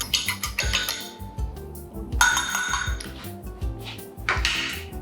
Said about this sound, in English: whisk some eggs